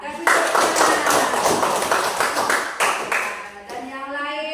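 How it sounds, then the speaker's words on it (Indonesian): Fourth-grade primary school class clapping for students, a lively burst of many small hands applauding close by, fading after a few seconds as a teacher's voice takes over. "Kasih tepuk tangan."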